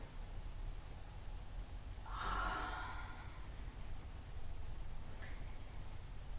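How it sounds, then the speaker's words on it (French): A person yawns during a guided exercise class while lying on the floor, a single breathy, drawn-out exhale lasting about a second, close and soft over a steady background hiss. "Et ici, baillez."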